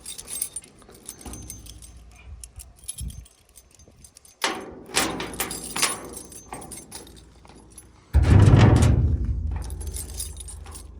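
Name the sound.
door being opened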